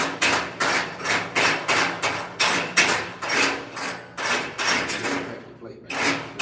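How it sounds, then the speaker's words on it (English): A chipping hammer knocks slag off a fresh weld on steel plate in a welding shop, with about a dozen loud, close, rapid strikes at a steady rhythm of roughly two per second and a brief pause near the end. "Well, we're gonna use your little chipper, your chipper hammer."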